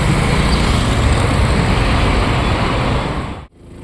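A motorbike rides onto a bridge amid city traffic, a constant loud rush of wind and road noise with engine drone, ending in a brief dropout, no talk.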